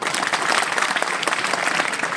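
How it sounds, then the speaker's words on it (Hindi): A group of children claps steadily and evenly for about two seconds, a dense, close patter of hands with no gaps. "गुड, तालियां बजाओ।"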